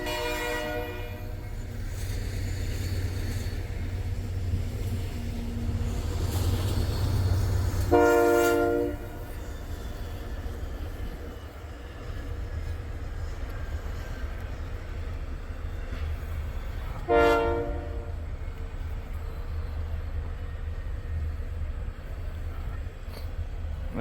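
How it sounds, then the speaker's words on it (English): An eastbound Union Pacific freight train rolls past near the Attica derailment site on a snowy day, with a low steady rumble throughout and two long horn blasts, the first around the middle and another later on. "got eastbound Union Pacific coming."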